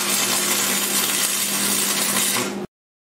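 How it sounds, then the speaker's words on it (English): Steady, loud crackling hiss of welding on a homemade quarter sawing attachment, running continuously for about two and a half seconds before cutting off abruptly. "I'm gonna weld this up now"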